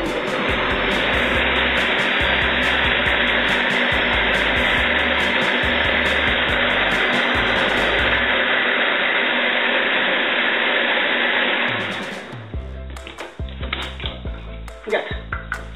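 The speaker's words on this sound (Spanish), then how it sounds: "Y ahora lo batimos un poquito, unos segundos nada, ¿vale?" A kitchen blender whirs loudly and steadily while blending tomato gazpacho soup, running for about twelve seconds before winding down, followed by a few clunks and knocks.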